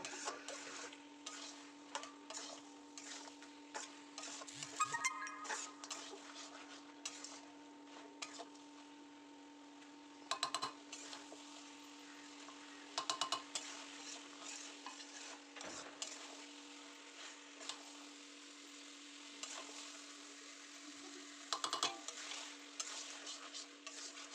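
Mutton stir-fries in a pan with its liquid nearly dried out, a faint sizzle under a steady hum, broken by repeated scraping and clinking strokes of a spoon at close range.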